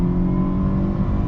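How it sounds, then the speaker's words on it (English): A Mercedes-Benz C180 W203 with a 129 hp engine and six-speed manual revs hard at full throttle in second gear. It makes a loud, steady, close drone with a slight rise in pitch. "it's a slow engine, but still feel nice to rev it"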